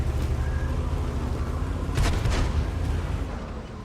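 A tank shell strikes an allied tank in World of Tanks, a heavy boom rising out of a constant rumbling battle backdrop of engines and distant gunfire.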